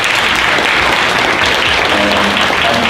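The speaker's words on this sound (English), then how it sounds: "Let's give our panelists a round of applause." Steady audience applause for a panel, a dense wash of many hands clapping at an even level throughout.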